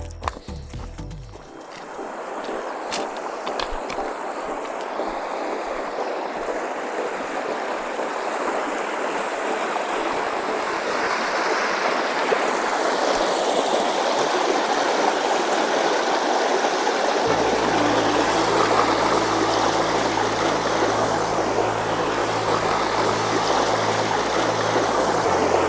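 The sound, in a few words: river flowing at Garner State Park, Texas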